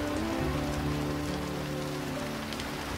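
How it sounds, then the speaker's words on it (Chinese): Heavy rain pours down in a continuous dense hiss of drops on surfaces, steady and close, with a faint low tonal hum running underneath. "下这么大雨，我送你回去吧。"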